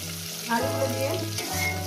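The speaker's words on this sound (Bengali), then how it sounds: "ভালো করে সুন্দর করে লাল লাল 5 মিনিট ধরে আলুটাকে ভেজে নেব" Potatoes frying in hot oil with cumin seeds, after fish was fried in the same pan; a steady broadband sizzle runs throughout under a low sustained musical drone.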